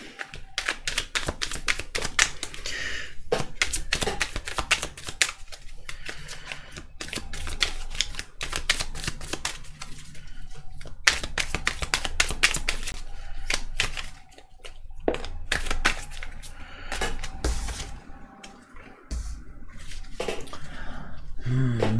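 Tarot cards being shuffled for a general reading, a dense run of quick papery riffles and flicks with short pauses, close and fairly steady throughout, with no talking.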